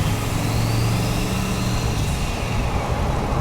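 A turbocharged LSX V8 in a 1989 Ford Mustang Foxbody drives along with a steady low engine drone and constant road rumble, heard from inside the car at an even level.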